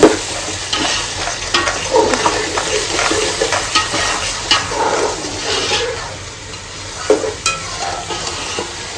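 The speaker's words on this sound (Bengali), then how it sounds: "হালকা হালকা করে ভেজে নেব" Soybean mince frying lightly in a pan, a loud close sizzle with scraping stirs and a few sharp utensil knocks throughout, no one speaking.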